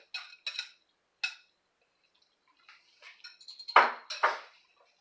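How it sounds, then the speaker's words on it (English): Cooked sausage, still hot, returned to a hot pan while making sausage gravy: a few light metallic clinks, a pause, then a louder clatter and sizzle-like scrape close by. "So I take the sausage that I cooked earlier, still hot, and I just put it back in the pan"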